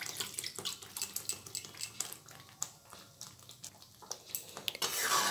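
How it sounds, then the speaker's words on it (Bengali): Tap water runs and splashes as a pressure cooker is rinsed in a sink and filled, with intermittent clatter of metal and a louder gush near the end; no talk. "কুকারটা ধুয়ে একটু জল দিয়ে দিচ্ছি।"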